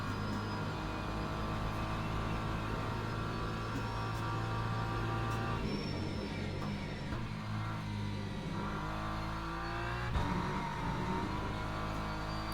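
BMW M4 GT3 race car in the racing game Le Mans Ultimate at Monza, its engine droning loud and steady throughout, with pitch shifts as it lifts and reaccelerates.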